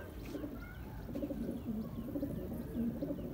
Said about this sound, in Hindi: फिलहाल मैं आपको वो कबूतर दिखाता हूँ सहदी के जो हमने पकड़े हैं।